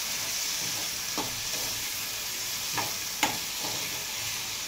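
Tomatoes and onions fry in a pan with a steady, soft sizzle throughout, broken by a few faint scrapes and taps of a stirring utensil.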